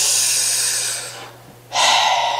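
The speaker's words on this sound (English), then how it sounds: "Stop with your breathing all in the mic." Heavy breathing blows straight into a microphone as a long loud exhale with airy hiss, then a pause and another loud breath right up close.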